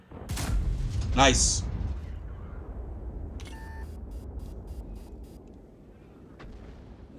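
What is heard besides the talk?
gunfire in a video game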